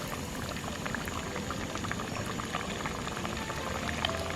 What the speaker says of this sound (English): Love that sizzle, sizzle.